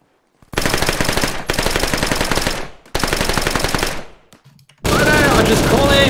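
Bursts of automatic gunfire from a military video game, three long loud volleys with short gaps, followed by a different burst of game action noise near the end; no talk over it.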